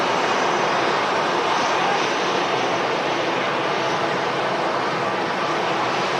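A steady, broad roar of an Aer Lingus jet aircraft at Manchester Airport holds at a moderate level throughout, with no talk over it.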